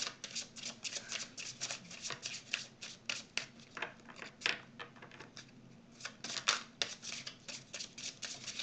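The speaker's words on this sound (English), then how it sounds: "when I shuffle them, they're very slick. They slide." Slick playing cards are shuffled repeatedly up close, quick crisp riffling bursts with slippery flicks, separated by brief pauses.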